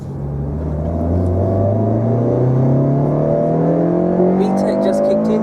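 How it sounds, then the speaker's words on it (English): A Honda Civic Type R FN2 climbs through the revs as VTEC engages, the engine note rising steadily and loud from inside the car, with a brief voice near the end. "VTEC just kicked in here."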